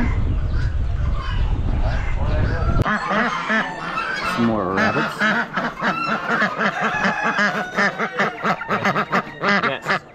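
Loud, rapid quacking from several nearby hen ducks at an Amish animal auction, overlapping in busy bursts, with a brief spoken remark partway through.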